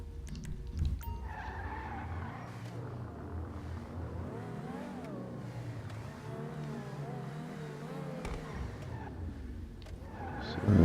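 Car driving on a custom street track in GTA Online, with a steady engine drone and tire skidding throughout, rising louder at the very end.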